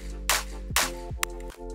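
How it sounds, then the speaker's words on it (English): Clap samples in a progressive house track snap out in a steady pattern, bright and punchy, layered over a sustained bass and tonal backing. "Then I have claps."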